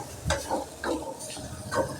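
A spoon scrapes and stirs masala powder sautéing in a pan in a home kitchen, making a soft rhythmic scraping with a light sizzle. It sounds close and runs alone with no talking.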